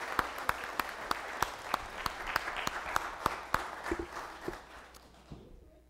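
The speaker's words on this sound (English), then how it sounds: "Can we give the boys and girls a big applause?" Applause for the boys and girls at a community Christmas event: sparse, rhythmic claps from a modest audience that thin out and fade toward the end, with faint voices underneath.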